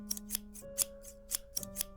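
Metal scissors snip repeatedly in a quiet barbershop, about eight crisp clicking cuts in an uneven rhythm, close and fairly soft over a faint steady hum.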